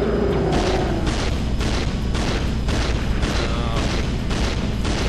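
Repeated heavy blasts from the Blitz cannon in the Ratchet & Clank 2 video game, a loud barrage of booming shots and explosions at a fast, fairly regular rhythm, about ten bursts in a few seconds, dense and continuous.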